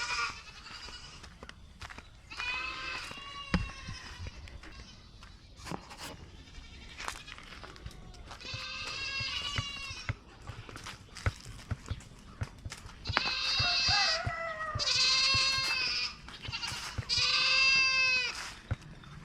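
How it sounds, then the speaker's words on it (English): Goats on a homestead farm bleat repeatedly in bursts, some close and loud, others farther off, with scattered knocks and rustling between calls on a chilly fall morning. "Can you guys hear the goats?"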